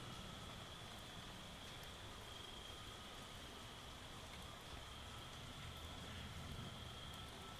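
Light rain falls outdoors on a foggy night, a steady, faint hiss of drops with no other distinct sounds.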